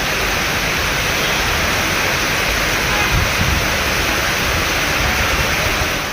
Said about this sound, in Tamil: 1 மணி நேரம் கொட்டிய கனமழையால் சாலையில் மழை நீருடன் கழிவு நீரும் கலந்து ஓடியது